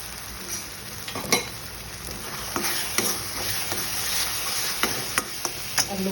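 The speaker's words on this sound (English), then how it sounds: "I'm going to cook it on a low flame until the oil starts leaving the sides." Masala fries in oil on a low flame for a Goan red beef curry, giving a steady soft sizzle broken by scattered clicks and scrapes of stirring.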